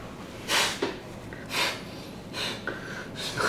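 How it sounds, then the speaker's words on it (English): A person blows their nose in several short, forceful bursts of air separated by pauses, close by. "Go ahead, blow your nose out."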